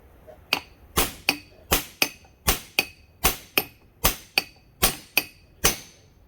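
A Snap-on 32 ounce dead blow hammer strikes a differential carrier from a Ford 9.75 rear axle, about ten sharp, loud, close blows landing at a steady rhythm with short ringing decays between them.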